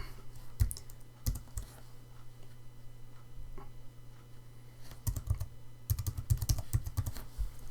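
Typing on a computer keyboard, sparse single key clicks early on, then quicker clustered keystrokes toward the end, close and moderately loud over a steady low hum.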